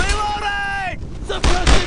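Gunfire in the World War II shooter Brothers in Arms: Road to Hill 30, loud sharp bursts of shots following a shouted voice, close and booming near the end.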